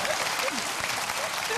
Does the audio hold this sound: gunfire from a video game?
no